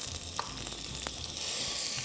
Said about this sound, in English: I hope you can hear me over the sizzle.